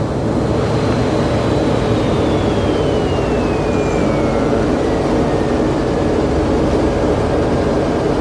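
Steady, loud broadband roar of an F-16 fighter jet in flight between Miramar and Nellis, a continuous engine rush with a faint whining tone sliding slowly downward, no talk.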